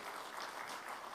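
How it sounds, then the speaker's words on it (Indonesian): Applause from an audience at an Indonesian political party gathering, a brief steady wash of clapping heard from a distance with no talking over it. "Tepuk tangan juga untuk Bapak Don Bosco,"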